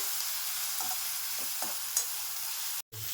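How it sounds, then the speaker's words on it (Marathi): Tomatoes are sautéed until soft for chole masala, giving a steady close sizzle with a few soft scrapes of a spatula and a brief gap near the end. "टोमॅटो एकदम सॉफ्ट होईपर्यंत त्याला परतून घ्यायचं आहे।"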